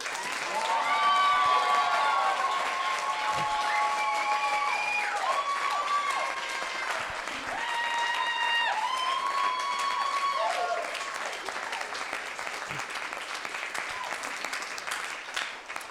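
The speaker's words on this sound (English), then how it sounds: "Let's give one more round of applause for all of our graduates." Audience applauds graduating seniors at a university variety show, a steady wash of clapping and some cheering held throughout while music plays over it.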